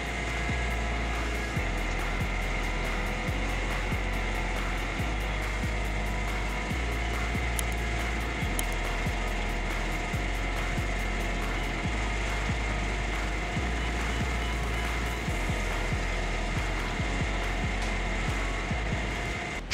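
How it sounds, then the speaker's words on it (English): A Woodcracker C350 tree-cutting mower works along a traffic route, a loud continuous mechanical drone with regular thumping pulses and scraping of wood throughout. "The Woodcracker C350 is the ideal mower for maintenance tree cutting work along traffic routes"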